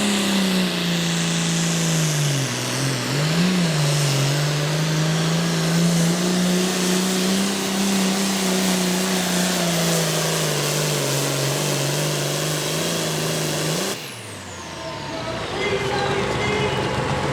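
Pulling tractor in North Carolina roaring at full power during a tractor pull, a loud sustained engine drone with shifting pitch that cuts out abruptly near the end before the roar resumes.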